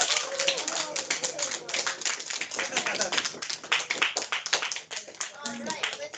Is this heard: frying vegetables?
no